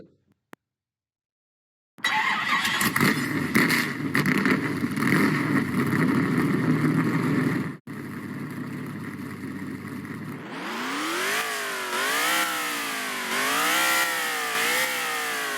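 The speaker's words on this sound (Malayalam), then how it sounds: "നല്ല വണ്ടി സൗണ്ട് ഒക്കെ ടെസ്റ്റ്" A NASCAR car in the Roblox Driving Empire game, with a loud steady engine drone that breaks into repeated rising and falling revs in the second half.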